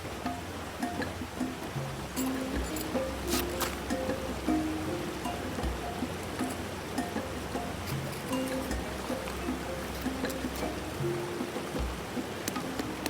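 A river flows steadily beside a solo riverside campsite, a continuous rushing wash that stays even throughout, with faint soft clicks of tent fabric and ground over it and no voices.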